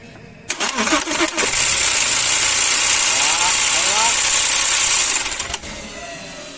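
Audi A4 V6 engine cranking and catching with a rattly start, then running loud with a faulty knocking noise for a few seconds before cutting off, with a voice over it.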